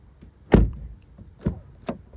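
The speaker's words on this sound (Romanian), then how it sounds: "Deschidem ușa. Să vedem cum se aude când o închizi." A Peugeot 408 car door shuts with a solid thud. Two lighter knocks follow, one after the other.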